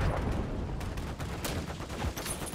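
Gunfire in Call of Duty Modern Warfare III on the Shipment map: rapid, dense bursts of shots and clattering impacts blending into a continuous, fairly quiet barrage.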